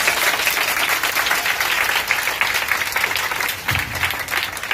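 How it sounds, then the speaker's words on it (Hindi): An audience at a sermon claps loudly and steadily together, a dense sustained wash of applause that continues for the whole stretch without a break. "जोर से तालियां हो जाए"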